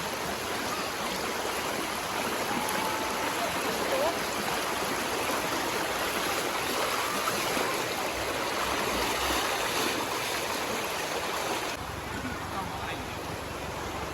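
Steady rushing of a flowing stream after rain in Ubon Ratchathani, Thailand, broadband and continuous throughout, with water noise filling the whole clip at an even level.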